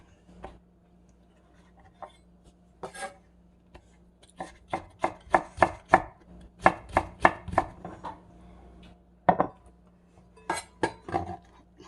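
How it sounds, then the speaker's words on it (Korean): A knife julienning cucumber on a cutting board, giving a run of crisp, close chopping taps that come sparse at first and then fall in quick rhythmic bursts, with no talking. "오이를 돌려깎게 해주셨으면 채를 썰어주세요."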